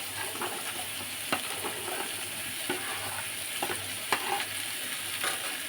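Ash gourd fries in a pan for a fish-head dish, a steady hiss with several sharp scrapes and clacks as it is stirred at irregular intervals.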